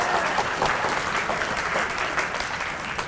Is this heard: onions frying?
no